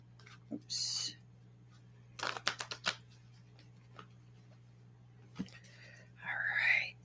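Tarot cards being shuffled in short bursts of riffling and flapping, close and fairly quiet, with brief whispery speech in the gaps between bursts.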